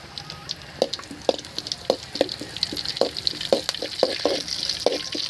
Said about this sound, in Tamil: இப்போ தான் எண்ணெய் கொதிக்க ஆரம்பிக்குது.